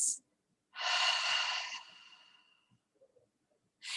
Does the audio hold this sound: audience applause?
no